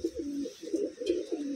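A Taiwanese Wantai racing pigeon coos close by in soft, repeated low hoots. The rhythm is steady and the coos run back to back with no talk.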